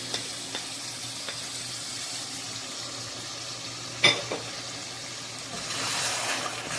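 Spices fry with meat and cauliflower in a pan, making a steady close sizzle with occasional stirring clatters and a sharp utensil knock midway, and the hiss swells near the end.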